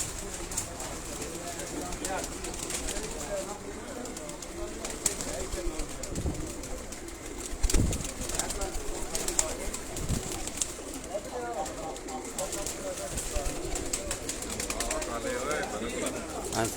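Batera and Kasuri breed pigeons at a Sialkot loft coo continuously in a soft, layered chorus, with occasional wing flaps and thumps rising briefly above the steady bird murmur.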